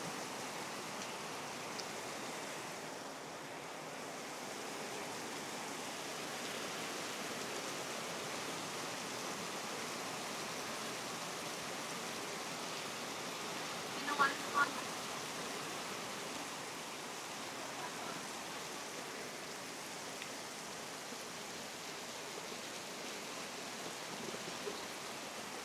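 Heavy rain pours down against a window in a steady, dense hiss that keeps going without a break.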